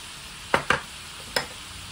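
Beef pepper lunch sizzles in a pan while a utensil stirs and scrapes it, giving three sharp close knocks over a steady frying hiss.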